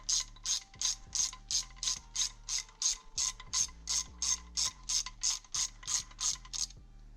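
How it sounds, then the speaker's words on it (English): A socket wrench ratchets in an even rhythm of about twenty clicking strokes as it snugs down 12mm engine head bolts during a big bore kit install on a Suzuki LTZ400 ATV, close and crisp with no voices. "I'm just going to use the socket and tighten it down just barely."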